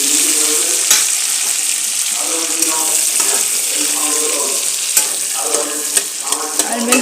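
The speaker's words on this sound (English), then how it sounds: "Now the onions are being fried" Diced onions frying with ginger and garlic in a hot pan, a loud, continuous close sizzle with repeated stirring scrapes, no talking.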